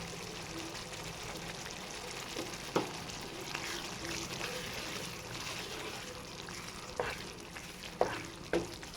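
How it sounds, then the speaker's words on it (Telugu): Curd bhindi masala curry with fresh coriander just added is stirred in a pan, giving a steady low sizzle with a few sharp spoon scrapes and clinks, the loudest near the end, and no talking. "ఇప్పుడు లాస్ట్లోకి కొత్తిమీర యాడ్ చేసుకున్నాక బాగా కలుపుకోండి."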